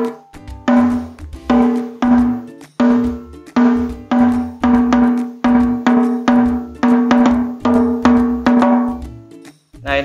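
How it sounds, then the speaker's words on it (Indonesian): An 8-inch Mika Steel tungtam hadroh drum with a black Mika Forbit head, struck in a lively repeated pattern of resonant, ringing, clearly pitched tones, close and loud with no talk over it. "Nah, ini untuk suara tungnya ya"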